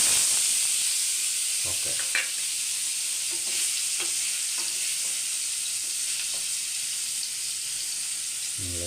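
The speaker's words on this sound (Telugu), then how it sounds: "ఇప్పుడు ఈ ముక్కలు మనం నూనెలో వేస్తున్నాం." Paneer pieces fry in hot oil, giving a steady, soft sizzle and hiss throughout, with a few light clicks as the pieces go in and a brief spoken word over the frying.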